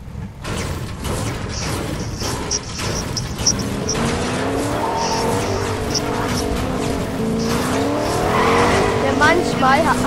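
A car in the Fortnite video game drives along with engine noise, tire squeals and skidding, mixed with music and game effects, fairly loud throughout.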